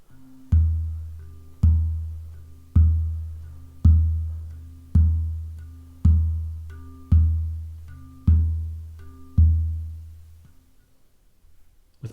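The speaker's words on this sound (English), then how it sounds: "Another technique for activating the Helmholtz resonance is to bump the dome of your central tone." A handpan's central dome is bumped with the palm to set off its Helmholtz resonance: nine evenly spaced, deep booming thumps, each ringing out and fading before the next, played alone with no talking.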